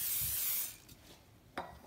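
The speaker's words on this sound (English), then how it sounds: "Just a little bit of pan spray to keep it from sticking to the bowl as it rises" Nonstick pan spray squirted into a bowl for rising challah dough, a short loud aerosol hiss followed by a couple of faint taps, close up with no talk.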